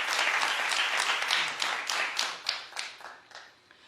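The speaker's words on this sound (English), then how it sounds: "Oh, light claps." A studio audience gives light applause, a patter of hand claps that starts fairly full and thins out into scattered individual claps before fading.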